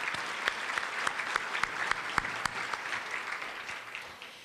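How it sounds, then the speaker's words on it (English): Applause from a seated crowd at a State of the County address, a burst of many clapping hands that gradually thins and fades toward the end. "Let's give ourselves a round of applause for passing of the penny sales tax"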